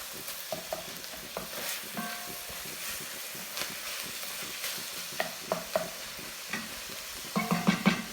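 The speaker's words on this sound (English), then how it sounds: "But we want to wake these dry spices up. So get this stirred in here good." A spoon stirs dry spices into a tomato sauce in a pan for Italian stuffed shells, with soft scraping strokes, light clinks and a faint sizzle. Louder stirring bursts come near the end, close by, with no talk.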